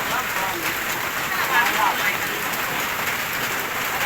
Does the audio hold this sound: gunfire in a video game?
no